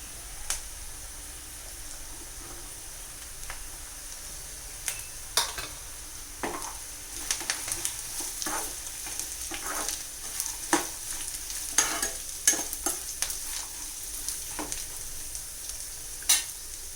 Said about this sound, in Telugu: ఉల్లిపాయలు కొద్దిగా ఫ్రై అయ్యాక క్యారెట్లు వేసుకుందామండి.